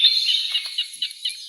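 White-backed woodpeckers in an ancient European forest give high, thin chirping calls that repeat irregularly, close and clear, with no other sound around them.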